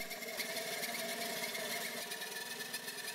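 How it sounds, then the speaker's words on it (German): A small methane-fuelled four-stroke engine turning at about 2500 rpm drives a generator, giving a steady, close, continuous buzzing drone with a fast mechanical chatter and no pauses. "Die Motordrehzahl beträgt etwa 2500 Kurbelwellenumdrehungen pro Minute, bei einer noch geringeren Drehzahl geht der Viertaktmotor aus."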